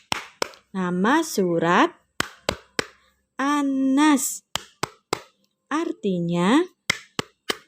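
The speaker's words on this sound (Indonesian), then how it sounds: "kita mulai dengan tepuk-tepuk tangan Islami dulu ya anak-anak" A teacher leads children in a rhythmic Islamic clapping chant, sharp hand claps in patterned groups alternating with sung, chanted phrases, the claps crisp and close between stretches of voice.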